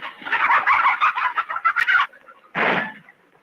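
Chickens cluck in a busy, choppy run of short calls, then pause before a single louder squawk, heard close with no talking.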